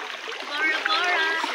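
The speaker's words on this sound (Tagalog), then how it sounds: "Nagalakad kami sa tubig." People wade through shallow brown water on the way to an island, with close splashing and sloshing steps continuing steadily under children's voices.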